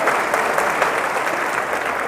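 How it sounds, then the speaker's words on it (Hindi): An audience claps steadily at a political speech in Bulandshahr, dense, loud applause from many hands throughout. "अरे ताली तो बजाओ इस बात के लिए"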